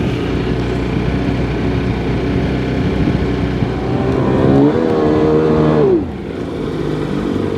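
A 2002 Sea-Doo GTX Di personal watercraft engine runs close by under repair, a loud steady drone that rises in pitch as it revs, then drops off abruptly and settles back to idle.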